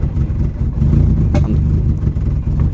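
A hot engine runs close and loud with a low, throaty rumble, swelling as the throttle opens and holding a steady revving drone throughout.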